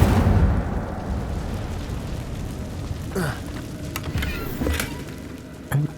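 An Incendio fire spell is cast in Hogwarts Legacy inside a cave, with a forceful burst at the start followed by a few sharper crackling flame blasts later on.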